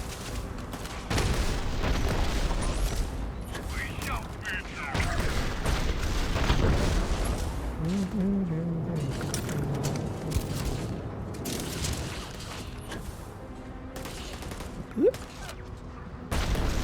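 Booming weapon fire and explosions from the sci-fi video game Shattered Space, heavy and continuous with a few sharper blasts near the end, a voice speaking intermittently underneath.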